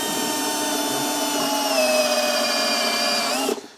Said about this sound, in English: So we're going to go ahead and drill that hole.